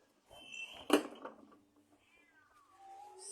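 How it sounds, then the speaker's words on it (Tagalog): A cat meows several times at close range: a sharp cry, then softer drawn-out mews with rising and falling pitch in a quiet room. "Sige, nagmiyaw-miyaw."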